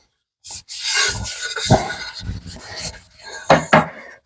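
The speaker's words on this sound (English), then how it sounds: "So, just wipe it down good with this." A cloth is rubbed firmly across a dusty, dirty surface in several close, rasping wiping strokes of uneven length, with no talk.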